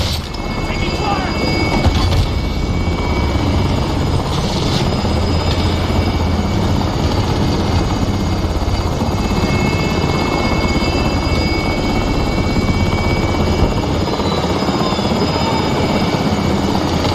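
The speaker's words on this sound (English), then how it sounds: "Extraction helo heading out" An extraction helicopter in a video game flies steadily, a loud, continuous rotor thrum and engine whine with voices over it.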